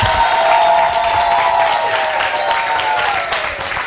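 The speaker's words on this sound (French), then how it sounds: "Applaudissements pour vous" Audience applause breaks out on a French-language television variety broadcast honoring agricultural women, a dense, steady wash of clapping that holds loud for several seconds before easing off slightly at the end.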